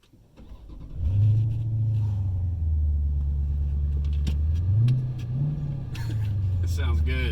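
A 2019 Dodge Challenger R/T Scat Pack with a 392 Hemi V8 and dual exhaust cranks and fires into a deep, loud idle, then blips the throttle in a couple of rising revs before settling back, recorded up close.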